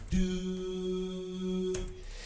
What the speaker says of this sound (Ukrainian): І також додається ще звук ду, вокал, який звучить нас ось так.